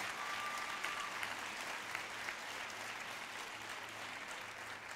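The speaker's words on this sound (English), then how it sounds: "Give yourself a round of applause." A room of about three hundred people gives sustained applause at a parent academy event, dense even clapping heard faintly and from a distance, with no talk over it.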